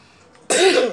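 A single harsh cough bursts out after a half-second of near silence, loud and close, with a rough throaty rasp.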